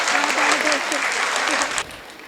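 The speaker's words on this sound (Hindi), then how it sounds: "एक बार तालियों से मुझे फिर से आदेशित कर दीजिए।" Audience applause at a Hindi kavi sammelan poetry gathering, a dense, loud burst of crowd clapping that tapers off near the end, with a voice faintly underneath.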